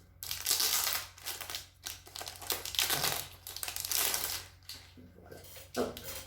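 Crinkly plastic packet of nail art decorations being torn open and handled, close and fairly quiet, with irregular rustling and crumpling bursts throughout.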